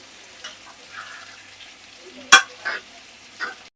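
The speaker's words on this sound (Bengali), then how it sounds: "আজকে প্রথম নাড়তাছি।" A spoon stirs meat curry with potatoes in a pan, producing a soft sizzle and a few scraping sweeps. One loud sharp scrape stands out near the middle.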